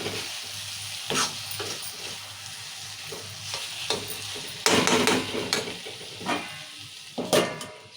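A tomato and drumstick fry curry is stirred in a pan, soft frying sizzle under repeated scraping stirs and a few louder clanks of a spoon against the metal, close and without speech.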